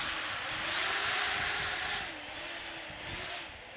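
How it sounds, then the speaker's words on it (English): An electric motor on an E-flite Draco 2.0m RC plane runs in reverse, giving a steady mid-pitched whine that dips and wavers while wind and rushing water noise surround it. "we're going to show you a little bit of the motor reversing in action"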